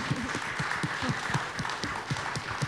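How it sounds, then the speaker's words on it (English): An audience at a community gathering applauds, a steady wash of many hands clapping at moderate volume with little talk. "Please give her a round of applause too"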